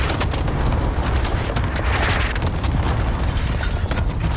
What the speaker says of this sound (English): Allied cluster strike inbound. Airstrike, you are clear to engage.